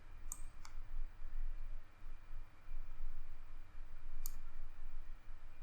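Computer mouse clicking in a spreadsheet: two quick pairs of faint, sharp clicks separated by a few seconds of quiet room hiss, close by with no talking.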